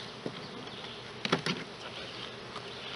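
Honey bees at an open hive, the last ones dropping back inside, drone in a close, continuous buzz, with a few brief bumps and rustles rising over the hum.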